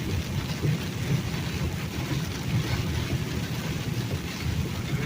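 Heavy rain pounds steadily on a truck cab roof while driving on a highway, in a dense, continuous roar, with no voices.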